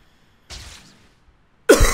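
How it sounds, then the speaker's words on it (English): A person coughing up close, two short harsh bursts about a second apart, the second sharper and louder than the first, with silence around them. "I'm suffering this cough"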